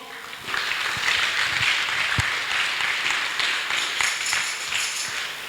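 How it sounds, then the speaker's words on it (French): A church congregation at a Sunday service bursts into sustained applause, a dense steady wash of many hands clapping that carries on for several seconds. "Une acclamation."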